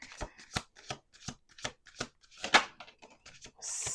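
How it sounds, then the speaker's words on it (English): Crisp, rapid riffling bursts of playing cards being shuffled several times in a row, close up, with a brief noisy rustle at the end. "Last shuffle. Last shuffle."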